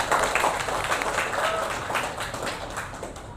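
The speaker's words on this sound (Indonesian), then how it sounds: "kita beri tepuk tangan yang meriah" A classroom of students gives lively applause, a dense patter of many hands clapping together that starts strong and slowly tapers off.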